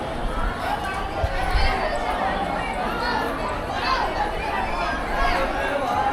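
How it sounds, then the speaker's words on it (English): A busy crowd murmurs and chatters at the Sri Maha Bhairavar Rudhra Alaya temple in Tamil Nadu, a steady wash of many voices with shuffling footsteps nearby, no single voice standing out. "It has a lot of crowd right now."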